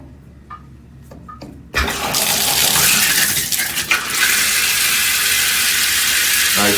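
A few faint clicks, then water suddenly gushes on and runs in a loud, steady rush from a hotel bathroom shower, close by.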